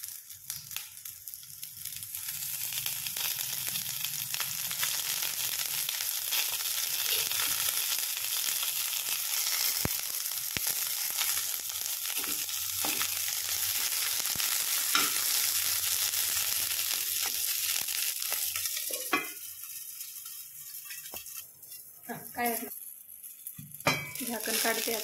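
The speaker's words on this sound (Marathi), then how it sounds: "झाकण काढते, थोडंसं तेल टाकायचं आहे आपल्याला वरून" Eggplants roast in oil in a covered pan, giving a continuous hissing sizzle for a long stretch; near the end the lid lifts and the sizzle turns brighter and more crackly, with a few metallic clinks.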